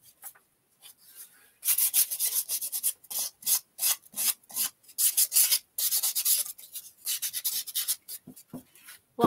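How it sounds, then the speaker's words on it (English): Rhythmic hand sanding of wooden furniture, quick rasping back-and-forth strokes, close and fairly loud, with brief pauses between bursts and no talking. "I'm sorry if you guys, if I'm sanding too loud"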